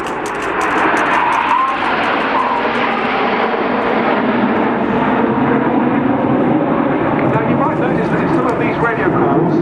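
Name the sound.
Red Arrows jet aircraft flying past in formation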